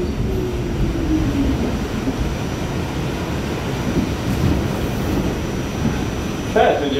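An R44 car on the Staten Island Railway rolls along with a steady, close rumble heard from inside the train, and a brief higher squeal near the end.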